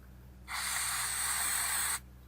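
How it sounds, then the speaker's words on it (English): An aerosol can of dry lube sprays onto motorcycle brake pads from a 1991 Yamaha FZR 600 in one steady, close hiss lasting about a second and a half. "So I give them a spray."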